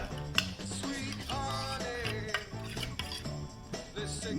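A puppy's dog food is stirred with milk in a bowl, a utensil clinking and scraping against the dish in irregular taps over faint background music.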